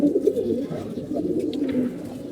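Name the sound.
pigeon cooing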